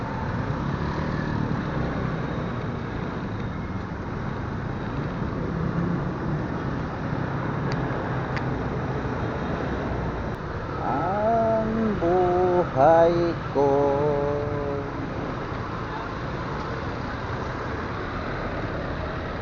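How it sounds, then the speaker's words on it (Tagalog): Congested city traffic near EDSA and Robinsons Ortigas hums steadily around a vehicle, with a continuous engine and road rumble, a few faint honks midway and brief talk. "Traffic na naman."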